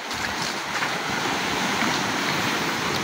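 Sea waves wash continuously over a rocky shore between Samar and Leyte, a loud, steady broadband roar with gusting wind buffeting the microphone.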